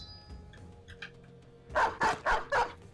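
Dog in the video game Battle Brothers giving four quick, sharp barks close together after quieter game sounds.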